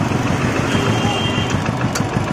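A motorcycle sits close by with its side stand down and the engine ticking over at idle, a steady low rhythmic putter.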